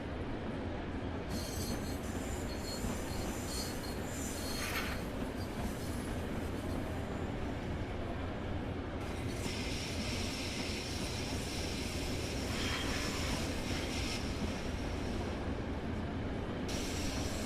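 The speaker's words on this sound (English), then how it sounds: "We have a train pulling in. I can hear it squeaking." A Long Island Rail Road train pulls into the platform in a train simulator, a loud steady rumble of wheels on track with high, thin squeals from the wheels coming and going on top.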